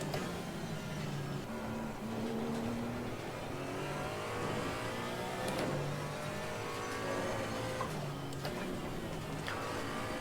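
Porsche Cayman GT4 flat-six engine driven on a lap of the Barcelona circuit, a steady near drone rising and falling with revs and gear changes, unbroken throughout with no talking.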